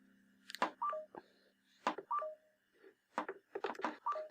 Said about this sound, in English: my phone literally is making a noise it has never, ever made before